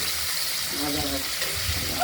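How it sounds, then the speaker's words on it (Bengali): Tilapia pieces fry until red in hot oil in a wok, a steady close sizzle with light stirring scrapes, and a voice speaks briefly over it. "দেখতেই পাচ্ছেন লাল করে ভেজে নেব"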